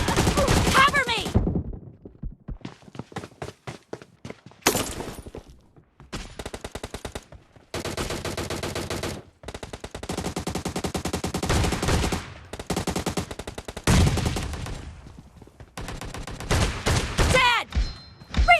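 Repeated shotgun blasts from an M1014 in PUBG Mobile team deathmatch, loud sharp booms in quick bursts separated by brief gaps, with occasional game voice lines.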